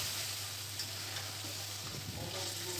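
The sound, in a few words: stirring onion cubes into frying chicken curry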